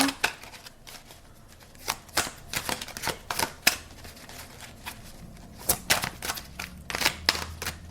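Oracle cards riffled and shuffled by hand in rapid bursts of crisp flutters and slaps, close and clear, with short pauses between runs.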